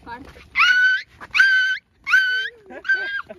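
A person imitates a dog with a voice, outdoors with children: four loud, close, whining yelp-like bursts with short gaps, and some faint murmuring before the first.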